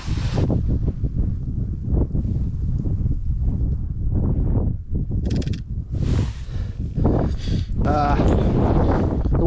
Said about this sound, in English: The wind's picked up, reflection gone.